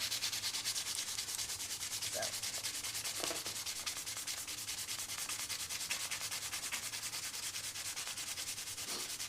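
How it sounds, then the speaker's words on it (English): Sandpaper scrubbing across metal, a close, harsh, continuous rasp with a fast, even back-and-forth rhythm and no talking. "It's just sandpaper on metal."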